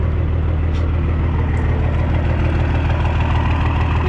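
A truck engine with smoky exhaust and leaking exhaust manifold gaskets idles steadily up close, a loud, constant low rumble that fills the whole stretch with no talk over it.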